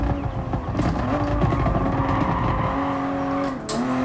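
A Toyota Supra with max upgrades in the GT Sport racing game roars loudly and continuously, engine note shifting with gear changes and a few sharp pops from backfiring over the drone.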